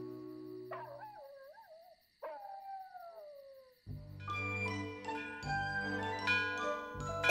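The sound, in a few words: dog howling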